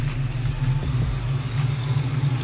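Oldsmobile Cutlass engine idling after running about ten minutes, a steady low mechanical rumble close by with a slight uneven pulse, no talking.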